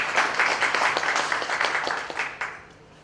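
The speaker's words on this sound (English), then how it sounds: "Please shall we give another round of applause," An audience at a Nigerian state government event in Sokoto or Zamfara breaks into applause, brisk dense clapping that gradually thins and fades out near the end.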